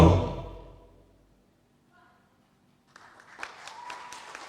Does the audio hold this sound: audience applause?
yes